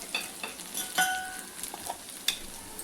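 Cauliflower fries in a pan with chilli powder and coriander powder while being stirred, giving a soft close sizzle broken by a few scraping strokes and light clinks of the spatula.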